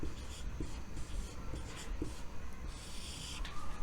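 Pen scratching across paper in a series of short strokes, near and steady, with soft rubbing between marks and no talk.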